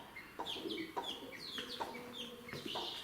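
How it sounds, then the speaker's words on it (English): A broody hen clucks in short, repeated bursts at close range, with a few sharper, higher calls breaking through the steady clucking; no one speaks. "peace has been resumed and she's acting like a normal broody hen now"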